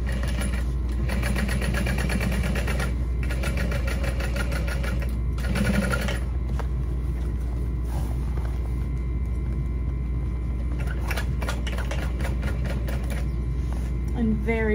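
Sewing machine stitching a 3/8 inch seam through a backpack's lining, running in a steady mechanical whir with brief pauses and restarts, up close and continuous over a low background hum.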